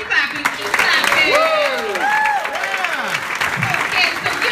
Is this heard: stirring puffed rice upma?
no